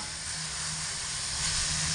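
Potatoes with spices sizzling in a hot pan while being stirred constantly, a steady close hiss with a faint low rumble beneath and no voices.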